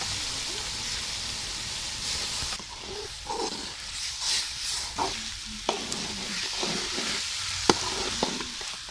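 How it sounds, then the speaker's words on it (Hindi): Sizzling and crackling from a hot tempering in a pan as dal is added, with stirring scrapes and a few sharp clinks, steady throughout. "तड़का हमारा बन गया है और अब हम इसमें डाल देंगे दाल"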